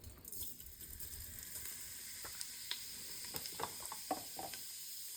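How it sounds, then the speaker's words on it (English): Cumin seeds in hot oil in an Instant Pot, a faint steady sizzle with scattered small pops and crackles, close by and alone. "So first I'm gonna add some cumin seed."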